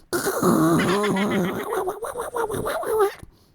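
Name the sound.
vocal imitation of a fart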